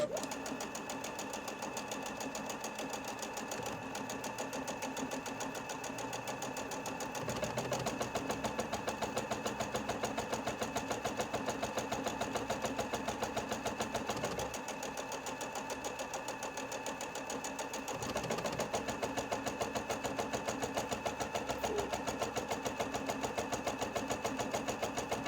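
A Juki HZL70-HW sewing machine stitching a buttonhole, its rapid, even needle chatter running steadily and close for the whole stretch, with slight shifts in pace as the stitching changes direction.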